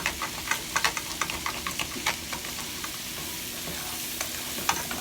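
Rice browning in melted fat inside an Instant Pot, a steady close sizzle and frying hiss with scattered crackles and pops running throughout, no talking.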